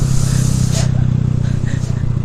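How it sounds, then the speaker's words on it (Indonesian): Honda Revo FI motorcycle fitted with an R9 racing exhaust, its engine droning steadily and close by with a low rumbling hum throughout, with faint traffic and wind noise around it. "kita dengerin aja ya pure soundnya. Gue pakai knalpot R9 gitu ya"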